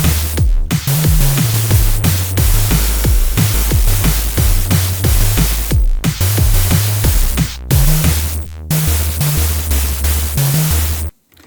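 A loud wash of hissing white noise plays over a thumping drum beat, with brief drops to near silence before it returns.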